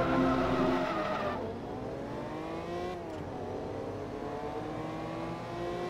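A racing car in the video game Forza Motorsport 2, its engine note loud and droning, dropping in pitch as it lifts off and then climbing again through the gears.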